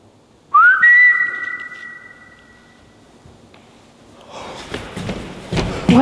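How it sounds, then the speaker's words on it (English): A single sustained whistle rises then holds a steady pitch for about two seconds inside a convent at night, followed by shuffling and thumping sounds nearby. "I thought I just heard a whistle"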